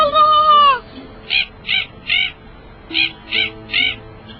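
A bird calls close and loud, one long harsh cry followed by six short, evenly spaced calls in two groups of three, with no voices.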